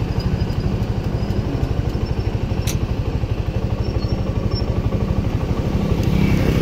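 A Suzuki Gixxer 250 motorcycle idles close by, its engine giving a loud, steady low throb with rapid even pulses and a brief sharp tick partway through.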